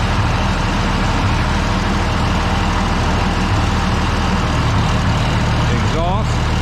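An IH 1026 tractor engine idles inside a barn, a steady loud low diesel throb with a brief voice near the end.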